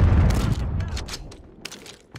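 Scattered shots and booms ring out in a video game firefight, heavy at first, then sharper isolated cracks that fade toward the end.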